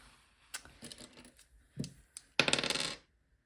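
Coloured dice rattle and tumble onto a surface: a few light taps and clicks, then a louder burst of rapid clattering that settles and stops, heard close with no talk.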